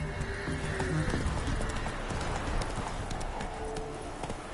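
Horse galloping in the video game The Witcher 3, a steady rapid clip-clop of hooves close up with a faint background wash, continuous throughout.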